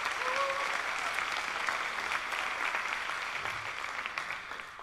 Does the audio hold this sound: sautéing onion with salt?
no